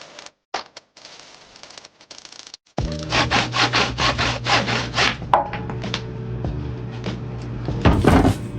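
A hand saw cuts through a broken mop handle, with a few scraping taps at first, then a run of quick, loud rhythmic back-and-forth strokes close by, ending in a final rough scrape.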